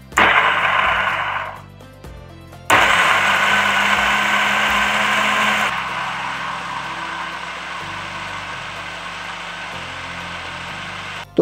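A blender runs loudly, grinding almonds with water into a fine paste for homemade almond milk: a harsh motor whir, a brief pause near two seconds, then a strong restart that settles into a steady, slightly softer drone.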